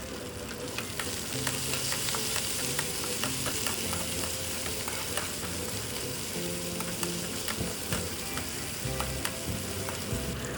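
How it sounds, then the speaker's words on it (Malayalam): Crushed shallots, dried red chillies and curry leaves sautéing for idichakka thoran, a constant crackling sizzle with rapid, repeated spatula scrapes against the pan, close and busy, without speech. "പിന്നെ വറ്റൽമുളക്, കറിവേപ്പില അതും കൂടെ അതിലേക്ക് മിക്സ് ചെയ്ത് നല്ലപോലെ വഴറ്റിയെടുക്കുക"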